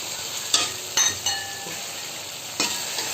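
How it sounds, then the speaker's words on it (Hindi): Eggs go into frying masala for aloo ande ka salan, producing a steady sizzle with a few sharp clinks and scrapes of a spoon stirring in the pan, close by. "अब इसमें हम अंडों को शामिल करेंगे।"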